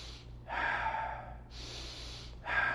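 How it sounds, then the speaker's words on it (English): Slow, deep breaths drawn in and pushed out while the core stays braced, three close, airy breath sounds separated by short pauses over a low background hum, with no talking. "All you have to do is brace and then just breathe."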